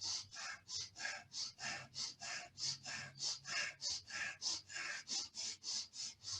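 Quick, evenly paced in-and-out breaths from a breathing exercise, each inhale and exhale sharp and airy, repeating steadily at close range.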